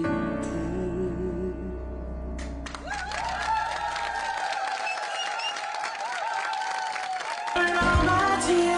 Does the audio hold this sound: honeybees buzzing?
no